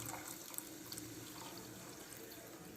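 Water runs steadily into a pot of chickpeas being cooked for malai chana, a soft continuous trickle and splash heard quietly up close, with no talking.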